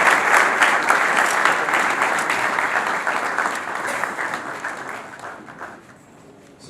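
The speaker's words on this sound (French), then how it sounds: "Nous l'appelons sous nos applaudissements" Loud, dense audience applause at a university event welcoming professor Augustin Matata, steady sustained clapping from a large crowd that slowly thins and fades near the end, no voice over it.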